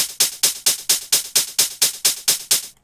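Programmed hi-hat pattern in FL Studio 10: a steady run of about twelve bright, crisp hits, evenly spaced and loud, each decaying quickly, with no other sound.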